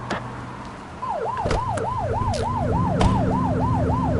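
A video game police car siren wails, cycling quickly up and down in a steady repeating yelp, loud and close over a low engine hum.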